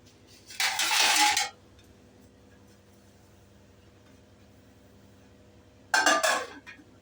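A metal lid on a cooking pot of mutton biryani clanks twice, a brief clattering burst near the start and another near the end, with quiet room hum between and no talk.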